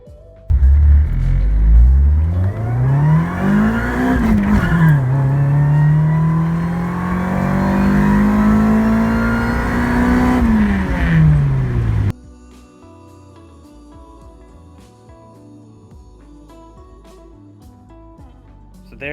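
A supercharged Honda D16Y8 car revs and accelerates hard, its loud engine note climbing through gears with shifts in between, then drops to a quieter idle-like drone for the final stretch.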